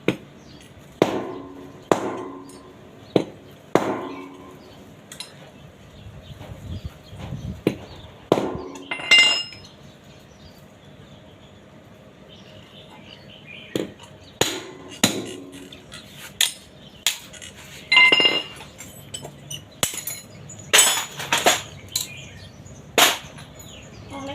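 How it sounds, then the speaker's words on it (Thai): Sharp metallic strikes of a hammer ring out one at a time at irregular intervals while changing a motorcycle sprocket, close and loud, with quiet pauses between the blows. "ก็คือใช้ค้อนทุบ"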